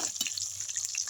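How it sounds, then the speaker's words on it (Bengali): Mourala fish paturi bubbles softly as it cooks, a brief faint burble and light popping over a quiet hiss, with no voices. "কীরকম ফুটছে মাছটা"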